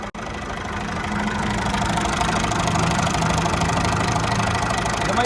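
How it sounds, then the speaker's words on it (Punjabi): An old tractor engine idles steadily after a brief start, a low, even mechanical rumble with a faint knocking pulse, no talking. "ਇੰਜਨ ਦੇਖ ਲਓ ਜਮਾਂ ਹੀ ਸਾਇਲੈਂਟ ਆ ਟਰੈਕਟਰ ਇਸ ਟਾਈਮ ਸਟਾਰਟ ਖੜਾ"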